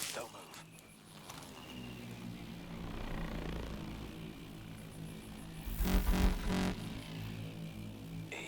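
A helicopter in the Call of Duty Advanced Warfare video game drones steadily in the background and gradually moves off, with a louder rushing swell near the end and voices speaking over it.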